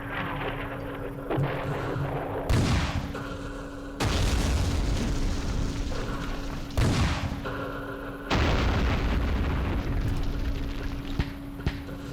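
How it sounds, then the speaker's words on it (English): 82mm mortar rounds exploding in the Vietnam war game Campaign Series Vietnam: three loud, heavy booms spaced a few seconds apart, each followed by a long rumbling tail, with a faint steady background hum. "That was the random 82mm mortar in the back"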